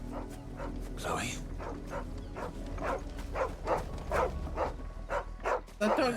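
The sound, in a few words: dog barking in video game Final Fantasy XVI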